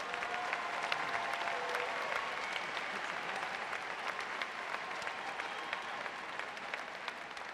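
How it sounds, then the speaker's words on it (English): Audience at an August 2015 university commencement applauding honor graduates, steady sustained clapping from a large crowd heard at a distance, fairly faint and even throughout. "Please join me in applauding the achievements of these honor graduates"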